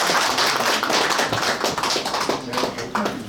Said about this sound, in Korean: 여러분의 뜨거운 박수가 필요합니다.